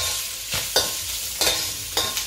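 Food sautéing in oil in a pan, a steady sizzle broken by several scraping stirs at irregular intervals, close up with no talk.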